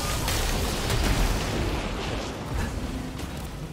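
Secondary-fire weapon shots in the video game Returnal, a rapid burst of rumbling, booming blasts that runs steadily for a few seconds without any speech.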